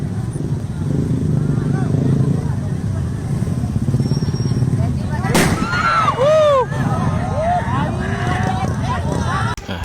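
Firecrackers go off after Eid prayers: loud, sharp bursts crack over a dense rumble of street noise and crowd voices, with whistling, fizzing streaks arcing through and a steady engine-like drone underneath.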